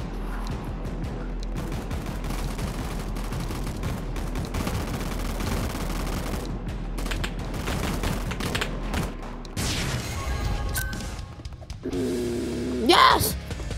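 Pistol gunfire in the Roblox gunfight arena game, repeated shots crackling throughout a busy match with game sounds, while a player talks over the action.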